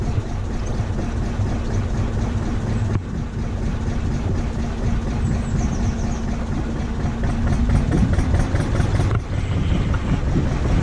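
A narrowboat's engine runs at a steady idle after a long time unused, a continuous low throbbing rumble, close and loud, with brief dips and no voices.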